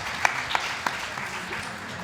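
Audience applause at a literary event, a short burst of clapping with a few sharp claps standing out near the start before the sound thins and fades.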